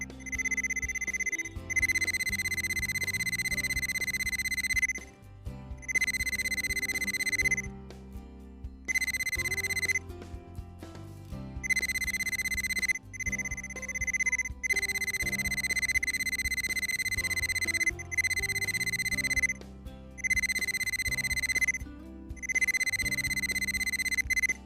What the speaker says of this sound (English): When you reach the point where a valve or solenoid is located, the signal will expand to an approximate 2 to 4 foot area of signal.